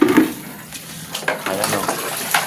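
Water poured from a bucket for two dogs to drink, heard as a few short splashing, trickling bursts with small clanks at close range, with no talk.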